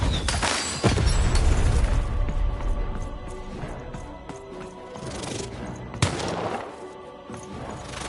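Cannons fire in the video game Lost in Random, with heavy booming blasts and crashing debris. Two big impacts stand out, the first near the start and another a few seconds later, over rumbling in-game noise.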